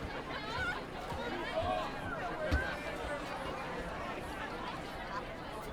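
A low, steady murmur of babble and chatter rolls through the crowd at a varsity high school football game at Van Brunt, a distant hubbub with a few louder voices rising briefly.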